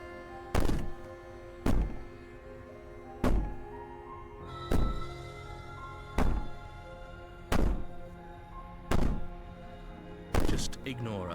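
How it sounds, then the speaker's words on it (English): Heavy banging in the video game Slay the Princess: eight loud, evenly spaced thuds roughly every second and a half against a door, each striking hard over a low droning background, with no clear wailing voice. "Maybe the banging and wailing will stop if you just don't pay attention to it."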